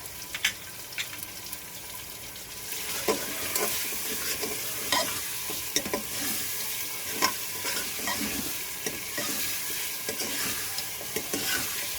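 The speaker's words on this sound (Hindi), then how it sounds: "थोड़ा सा इसको सौते करेंगे" Ginger garlic paste sizzles and crackles in a hot pan, with a spoon stirring and scraping now and then, steady frying close up.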